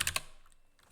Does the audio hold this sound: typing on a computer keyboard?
yes